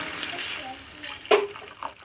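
Water pours into a pan of potatoes and prawns, a brief splash and gush over a steady hiss, close by.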